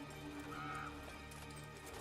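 Horse in The Witcher 3 video game gives a quiet, short neigh and whinny with a little hoof clopping, heard alone at low level.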